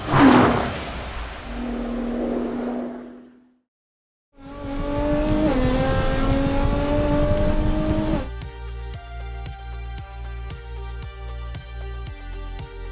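A Nissan GT-R R35 engine idles, then revs through rising and falling pitch, ending in a rapid, evenly ticking mechanical pulse, loud and close.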